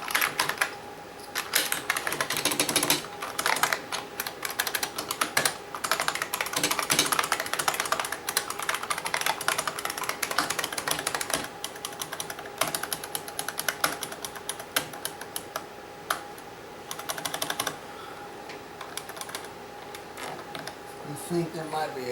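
A restored, bolt-modded IBM Model M keyboard built in December 1989 is typed on rapidly, producing a dense, continuous stream of loud, sharp clicky keystrokes close to the mic.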